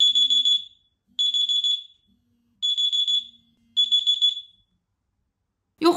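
A loud alarm plays through the 3.5-watt, 112-decibel rear speaker of a rugged three-proof budget smartphone, sounding as four shrill beeping bursts of roughly half a second each with short gaps, heard alone indoors.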